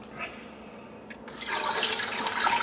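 Beef bone broth, simmered overnight, drains into a pot in a steady rushing, splashing pour that builds loud after a quieter start; no speech.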